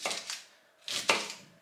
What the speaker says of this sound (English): just cut it into little pieces